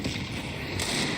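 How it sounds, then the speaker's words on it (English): A grenade detonates in the game Counter-Strike 2, a short broad burst that spreads into a noisy rumble and fades, with a brighter crackle near the end and no talking. "I'm throwing a grenade."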